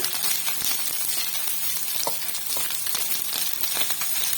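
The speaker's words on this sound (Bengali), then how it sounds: "একটু ভেজে নিব।" Food fries in a pan while a child's lunch is cooked, giving a steady, close sizzle and crackle that runs unbroken throughout with no voices.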